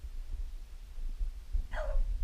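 A single dog bark, short and mid-distance, rising briefly over a low rumbling background near the end of the moment.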